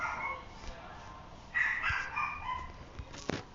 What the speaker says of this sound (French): si vous entendez mon chat aboyer, c'est normal.